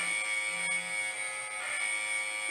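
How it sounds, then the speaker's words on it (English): A continuous electronic buzzer drones steadily and loudly throughout, a flat sustained tone with no pauses. "So, buzzer is about to go off"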